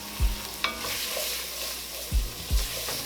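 Flour stirred into beef stew in a pot, a spoon scraping a few times against the metal over a faint steady sizzle, close and alone.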